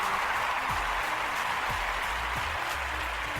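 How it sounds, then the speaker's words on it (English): Steady applause from a crowd, a continuous wash of clapping at moderate volume with no voices on top. "Let's give a round of applause for the changes."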